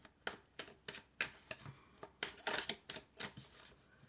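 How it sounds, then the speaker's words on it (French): Oracle cards are shuffled close up, a run of crisp riffling flicks and slaps repeating every few tenths of a second, quiet and dry with no talking over them. "On va prendre quelques cartes"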